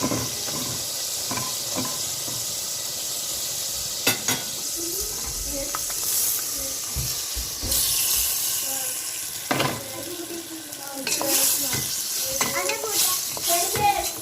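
Pasta with a little salt is stirred in a pot in a home kitchen, a steady scraping and sloshing with sharp clinks and a background hiss throughout.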